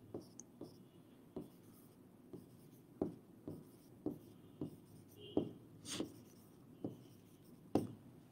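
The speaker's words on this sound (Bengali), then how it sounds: "এই যে আমি লিখে দিলাম" Chalk or marker strokes on a classroom board during a physics lesson: a string of short, soft scratchy taps and swipes at irregular intervals, close and quiet, with no talking.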